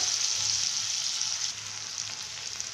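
Salted vegetables fry in a little oil, making a dense, even hiss that stays close and continuous and eases slightly partway through.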